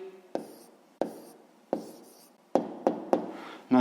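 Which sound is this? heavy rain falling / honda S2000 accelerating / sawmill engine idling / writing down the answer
writing down the answer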